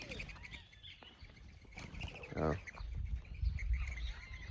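Birds calling at a fish feeding spot in Hamilton, Bermuda, with a clear chirping call among the chatter and outdoor murmur; people talk nearby.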